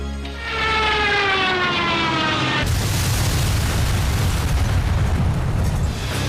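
Aircraft sounds from flight video games: a loud, steady engine drone with a sweeping tone gives way midway to a broad, roaring rumble like a jet blast or explosion, continuous and close throughout.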